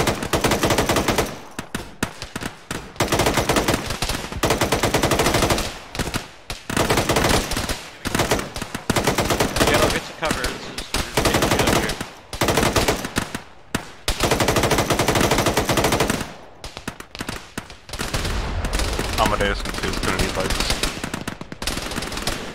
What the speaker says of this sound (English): I can't see these guys shooting at us.